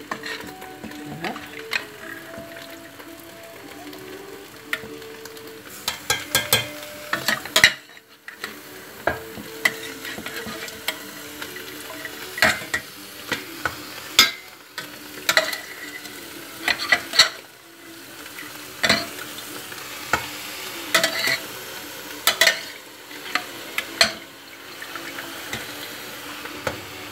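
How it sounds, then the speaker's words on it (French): Meat being stirred in a cooking pot while making eru, with irregular scraping and clattering strokes and a soft sizzle underneath, moderately close and without talk. "Mélangez bien"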